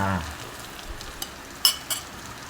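Egg cooking in a pan with dried anchovies gives a low, steady sizzle, broken by a few light clinks of a utensil stirring against the pan.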